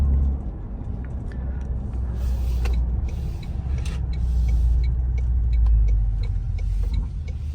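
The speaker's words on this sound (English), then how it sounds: "I'm gonna jump on the highway real fast just to give you an acceleration video." A Toyota Tundra pickup eases onto the highway at night, its steady low engine and road drone building gently, with faint creaks and rattles from the cabin and no one talking.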